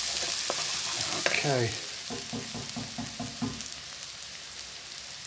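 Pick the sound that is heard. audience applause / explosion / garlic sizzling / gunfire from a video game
garlic sizzling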